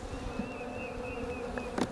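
Honey bees buzz steadily inside a hive, a close, continuous droning hum with a faint higher whine, heard alone without any talk.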